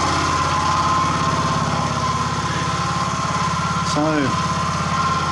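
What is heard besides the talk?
gasifier-fuelled engine running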